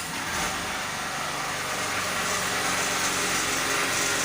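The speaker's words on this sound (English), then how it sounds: "Can you hear the sound of the generator?" A generator runs continuously nearby, producing a steady, fairly loud engine drone with a broad hissing wash, unbroken and without voices.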